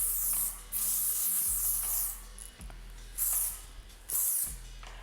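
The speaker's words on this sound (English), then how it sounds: "All that's left to do is to apply some hairspray, which I'm gonna do now" Hairspray sprayed onto styled hair in several long, loud hissing bursts with short pauses between them, close by and alone over a low background hum.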